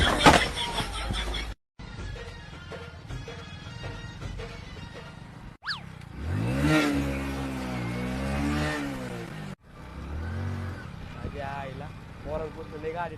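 A motor vehicle is driven hard and revved, its engine rising and falling in pitch in a rough mid-range drone, close and loud, with people talking and laughing over it between short cuts.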